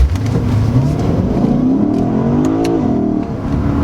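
A 2022 Lexus IS500 accelerates hard with traction control off, its engine loud and close, the pitch climbing steadily through the revs with a sharp shift midway, under a rough whir of spinning tyres.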